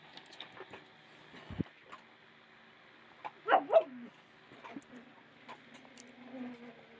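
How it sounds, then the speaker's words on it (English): A dog barks somewhere in the distance, two quick faint yaps in the middle of an otherwise quiet indoor room, with a few soft thumps around them. "There went a dog."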